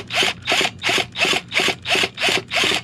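A basic cordless drill turns a nitro engine over through a Rotor Start tool on an HPI Savage X4.6 nitro monster truck, giving eight steady, evenly spaced chugging pulses, loud and close.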